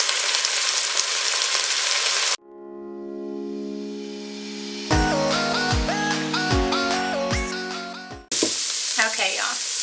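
Meatballs cooking in a pot on the stove over medium-high heat give a steady, close sizzle at the start and end, with a stretch of instrumental music taking over in between.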